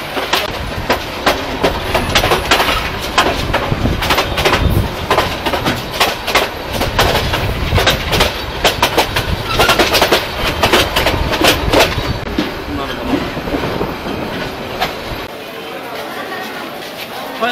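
A passenger train pulls out of Mahimaganj station on the line toward Bonarpara, its wheels beating a loud, rhythmic clickety-clack over the rail joints that thins and eases off near the end.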